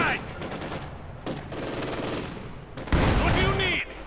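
Sustained bursts of gunfire rattle through a Company of Heroes 2 match as Maxim machine guns fire on the battlefield, dense and continuous, with a sharper, louder volley near the end.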